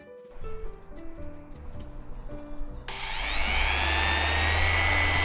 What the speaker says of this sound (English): So you might notice this is the first time I'm using a sander.